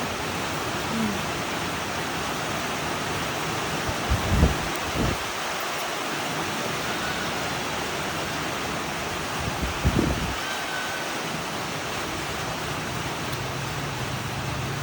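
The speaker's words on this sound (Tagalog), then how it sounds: "Yes, umuulan po ngayon." Steady rain falls throughout, a constant hiss with a couple of brief louder rumbles or thumps, heard alone with no clear speech.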